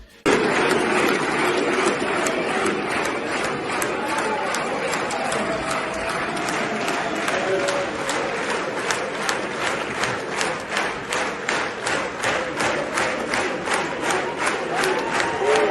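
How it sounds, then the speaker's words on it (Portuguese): A Knesset audience gives Trump a standing ovation, a loud dense crowd roar of cheers and shouts that settles into rhythmic, evenly spaced group clapping that carries through to the end. "Gritos, aplausos, lágrimas"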